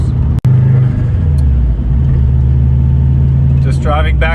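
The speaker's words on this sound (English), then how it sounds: "we've got a running 1JZ Cresta" A running Toyota 1JZ engine in a Cresta idles with a steady, close, low rumble that holds throughout, with a brief dropout early on and some faint higher noises near the end.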